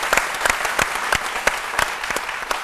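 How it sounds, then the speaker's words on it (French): Studio audience applause on a midday Ivorian TV variety show, a renewed round of supportive clapping; a steady, fairly close patter of many hands with sharper individual claps standing out, continuous throughout without talk. "je voudrais qu'on renouvelle nos applaudissements et que ce soit cette fois-ci des applaudissements de soutien"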